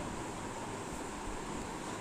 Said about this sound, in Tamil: மொத்தம் 4 டம்ளர் தண்ணி நான் இதில் ஊற்ற போகிறேன்